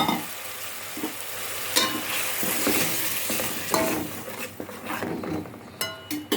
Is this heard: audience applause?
no